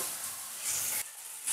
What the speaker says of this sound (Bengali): এবার আমরা জিরে গুঁড়োটা দিচ্ছি।